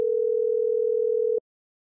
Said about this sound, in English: Kettinger picked up the phone and dialed the home office.